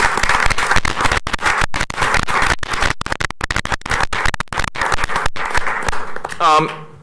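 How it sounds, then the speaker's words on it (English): Sustained applause from the audience at a Batavia city council meeting, dense clapping throughout that tapers off near the end as a voice begins to speak. "give those guys a little bit of a round of applause"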